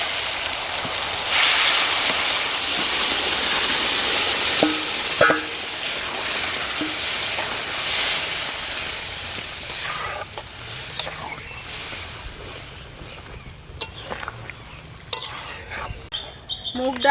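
Mung lentils with ridge gourd sizzling in a pan of fried spices, tomato and a little sugar, a loud, steady hiss with occasional stirring scrapes and clinks toward the end.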